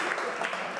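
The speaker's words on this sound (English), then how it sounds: "Big applause to you guys" Brief burst of audience applause at the stage of a surgery tour opening event, a dense, even patter of many hands heard close by.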